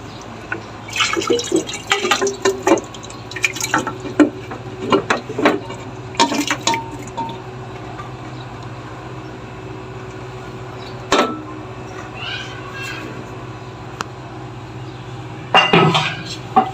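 Cooked chicken curry poured from a pressure cooker into a pan, heard as close, uneven liquid splashes and glugs mixed with metal clanks of pot against pan, in bursts with quieter pauses and a final louder clatter.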